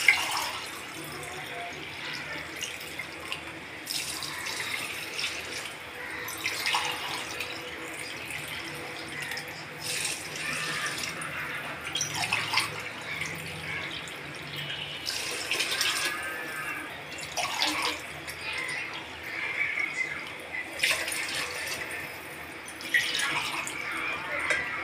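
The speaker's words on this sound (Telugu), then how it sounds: "ఇప్పుడు ఆ గ్లాస్తోనే 5 గ్లాసులు వాటర్ పోసేసుకుని సరిపోద్ది" Water poured from a glass onto rice in a pot for vegetable biryani comes in repeated splashing bursts over a long stretch, with voices heard at times.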